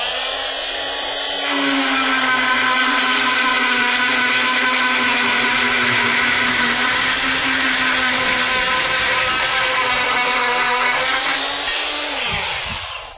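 A Terratek power saw slices through copper piping with a loud, steady high-pitched whine that starts abruptly, holds for about ten seconds, then winds down as the cut ends.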